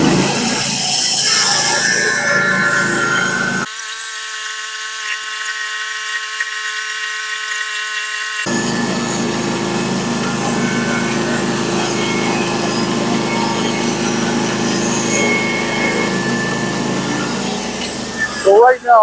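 A sharpened Stellicut band blade on a sawmill cuts lengthwise through a huge pine log into 16-foot 2x12 boards: a loud, steady, close-up roaring whine that carries throughout, with one abrupt drop in the low end partway through.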